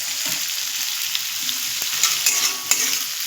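Onion stir-fried with salt sizzles softly and steadily in a pan, with a few sharp scrapes and clinks of a spatula stirring near the end.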